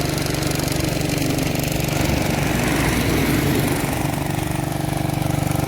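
A small engine drives a pesticide spraying pump for mango blossoms, running close and loud in a continuous buzzing chug with a steady rapid pulse that thickens briefly midway.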